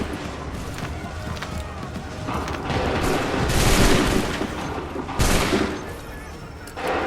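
A musket volley in the video game Assassin's Creed III, a rolling burst of many shots that swells into a dense crackling roar and fades, with faint shouting voices in the mix.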